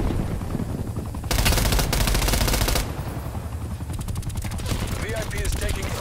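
Rapid automatic gunfire bursts from the Call of Duty Cold War beta in a VIP escort mode, a dense burst in the middle followed by lighter rattling shots, with game effects and some voice chat mixed in.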